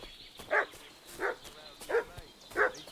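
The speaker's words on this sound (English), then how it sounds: "What's that dog making such a fuss about?" Dog in Kingdom Come Deliverance 2 barks four times at a steady, evenly spaced rhythm, each bark short and mid-distance over a quiet game ambience.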